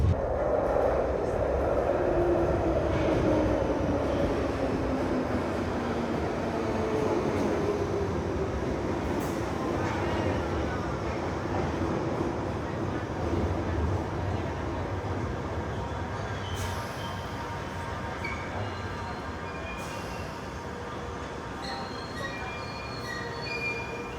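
A London Underground train rumbles in and slows, wheels squealing along the rails in a long descending whine, with loud continuous rolling noise throughout.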